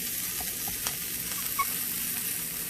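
Onions and sesame seeds sizzle steadily in a hot pan, a loud, even frying hiss with a few small pops, close up and with no talking.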